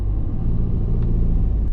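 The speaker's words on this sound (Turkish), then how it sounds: "Ayağımızı frenden kaldırıp gaza basıyoruz." A 2021 Fiat Doblo with a smart clutch pulls away uphill and accelerates, its engine giving a loud, close, low rumbling drone with no talk.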